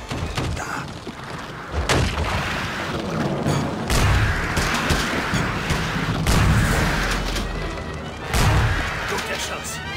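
Gunfire and heavy booms ring out in an action scene from the King Kong Xbox 360 video game, with repeated shots and thuds layered over a loud, busy mix while characters speak German.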